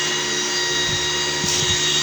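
Electric blower fan running on a delay timer, a steady whirring motor hum with faint light knocks and rattles over it, close and continuous, no talk.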